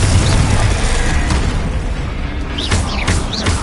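The Confringo fire spell in Hogwarts Legacy goes off as a loud, rumbling blast with crackling bursts and whooshing tails, and combat effects fill the whole stretch.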